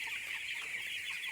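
Broiler chickens about 15 days old clucking together in a village poultry shed, a dense steady chorus of overlapping clucks and chirps close by, with no talk.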